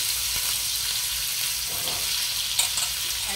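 Washed raw mangoes fry in a hot pan with garlic over a low gas flame. A dense, steady sizzle fills the clip, with a small clatter near the end.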